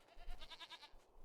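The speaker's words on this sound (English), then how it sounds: "Hey, goats." Goats in the Jade Empire video game bleating, one faint wavering bleat in the distance over a low background hum.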